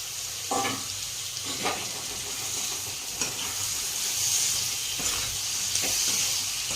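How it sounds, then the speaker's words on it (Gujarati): Chopped tomatoes go into a hot pan of sev tameta nu shaak with a steady sizzle and frying hiss, broken by several spoon stirs and scrapes against the pan. "આપણે કટ કરેલા ટામેટા નાખી દઈશું."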